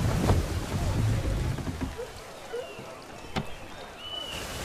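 Wooden sailing ship under full sail in Assassin's Creed III, with a broad rush of wind and water along the hull, loud at first and then easing off, as voices talk over it.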